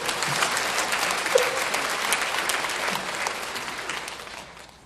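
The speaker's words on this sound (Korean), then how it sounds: "박수." A church congregation breaks into sustained applause during a sermon, a dense wash of clapping that holds steady and then tapers off near the end, with no talking over it.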